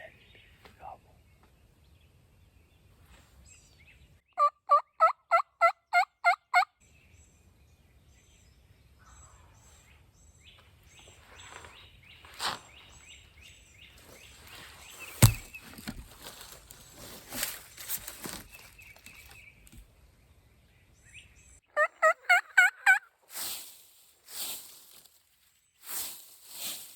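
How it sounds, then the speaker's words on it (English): Wild turkeys in Georgia woods during spring season, with bursts of rapid gobbling calls from several birds at a distance, separated by quiet stretches of faint rustling and low murmured talk. "It was a hen gobble."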